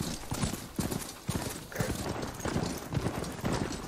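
Rhythmic heavy footfalls of a ridden machine mount in Horizon Forbidden West, a steady galloping clip-clop pattern that repeats evenly at moderate volume throughout.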